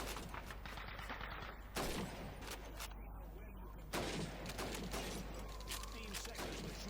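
Gunfire in the Xbox 360 game Call of Duty 2, a steady stream of rapid rifle and machine-gun shots with occasional louder bursts, busy and continuous under game effects.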